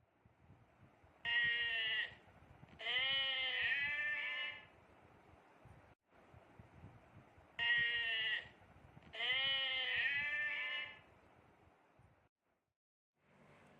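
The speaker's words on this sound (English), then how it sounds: "The sheep makes the sound ba ba." Sheep bleating in a quiet setting, four loud wavering calls that arrive in two pairs separated by silence, each call lasting about a second.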